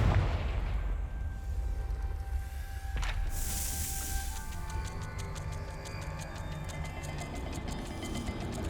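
A Confringo fire spell in Hogwarts Legacy lets out a sharp blast partway through, followed by a crackling, rhythmic rumble that trails off over a quiet background hum.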